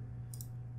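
A single quick double mouse click sounds while working in GIMP, crisp and close over a steady low electrical hum.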